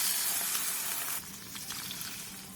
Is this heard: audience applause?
no